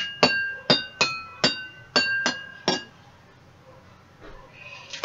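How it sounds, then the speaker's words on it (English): A pencil strikes a row of water-filled drinking glasses, giving seven bright ringing clinks in an uneven rhythm, each with a short decaying tone, then a pause before a faint final tap; close and clear with no talking. "each of the glass will have different tone when hit with the pencil"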